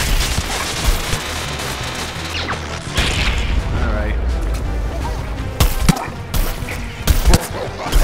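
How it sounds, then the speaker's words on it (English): Explosions and weapon blasts in the shooter game Plants vs. Zombies: Garden Warfare: several sharp, loud bangs near the end over a dense, continuous bed of battle noise, with a voice talking throughout. "Uh-oh, here comes an explosion."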